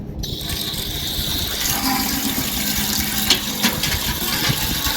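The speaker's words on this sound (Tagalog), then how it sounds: "Yun yung gripo." Water runs from a tap in a steady, continuous broadband rush that stays fairly loud and even throughout, with a few faint knocks partway through.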